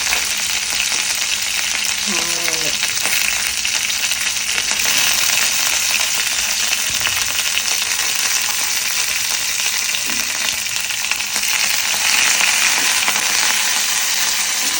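Steady crackling sizzle of tempering spices frying in hot oil, continuous and close, with a brief clink early on and no talking.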